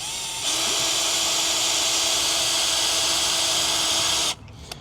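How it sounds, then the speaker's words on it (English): A power drill whirs at a constant high pitch for about four seconds while drilling holes in a filament spool, then cuts off abruptly, leaving quiet handling noise. "the reason why we're drilling"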